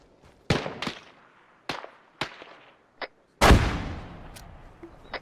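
A frag grenade detonates in the Arma 3 video game, a loud booming blast with a long rumbling tail, set among several sharp gunshot cracks before and after.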